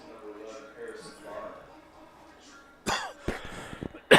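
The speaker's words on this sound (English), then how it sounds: "having a little bit of trouble with a coughing spell here" A sports commentator at a high school baseball game has a coughing spell, with a few sharp, close coughs bursting out after a stretch of quiet background crowd noise.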